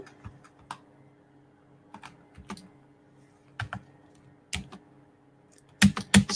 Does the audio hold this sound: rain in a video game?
no